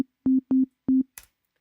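Three short sustained sine wave tones from a Serum synthesizer, each with a clicky attack and release, used as the base for an 808/909-style snare design, playing in an even stepped rhythm before a brief noisy burst.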